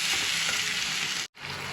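Banana flower mixture sizzles steadily in a frying pan as it is stirred, a loud, continuous hiss with scraping that cuts out briefly near the end.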